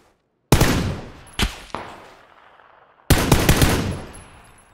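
A carbine fires in PUBG: a sharp, loud burst of rapid shots, two single cracks shortly after, then another rapid burst, each trailing off in echo, with silence before the first volley.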